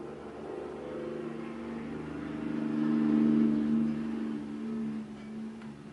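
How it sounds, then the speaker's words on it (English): Engine noise from passing loud cars and motorcycles, a low rumble that swells toward the middle and then fades, heard at a moderate distance with no talking. "Loud annoying cars and motorcycles."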